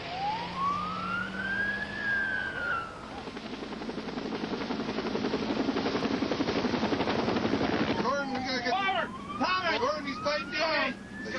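A medical transport helicopter is heard with a steady rotor roar, mixed with siren wails from emergency vehicles and the murmur of people talking at the scene.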